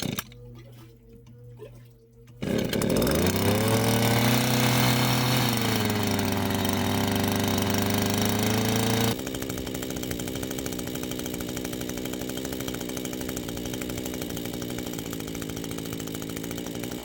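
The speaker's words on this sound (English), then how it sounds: "We've got the pump started, and it pumps in here pretty quick." A pump starts up and runs steadily, pumping maple sap into a 380-gallon tank. It gives a loud, continuous motorized drone with a rising whine as it gets going, then its tone shifts partway through and keeps running with a rushing, churning sound.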